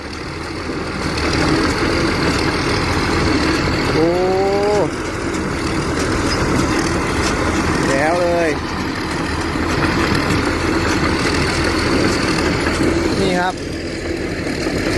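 A Thai farm tractor engine idles steadily and loudly, lifting into three brief, light revs that rise in pitch and settle back, with faint voices in the background.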